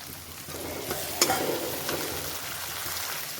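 Capsicum and tomatoes fry and get stirred in a pan for egg bhurji, a steady close sizzle with a sharper scrape of the spatula partway through, no voices.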